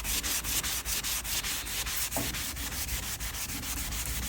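A Scotch-Brite pad loaded with Comet cleanser scrubs old paint on a barn-find barndoor VW Transporter, a close, rapid, rhythmic rasping in steady back-and-forth strokes.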